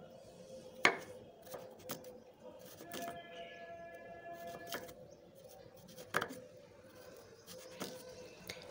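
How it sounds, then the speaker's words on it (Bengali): A knife slices banana stem (thor) into thin strips on a board, making faint, irregular taps and cuts with a few sharper knocks in a quiet kitchen. "এবার থোরটাকে খুব সরু সরু করে কেটে নিচ্ছি"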